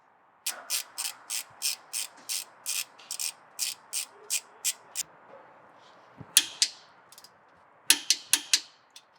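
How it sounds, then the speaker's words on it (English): A torque wrench tightens an 88 foot-pound UTV shock bolt, giving a quick run of about a dozen sharp, evenly spaced ratcheting clicks, then a pause and a few louder separate clicks and knocks close by. "So we'll set our torque wrench here, and then go ahead and get that torqued down."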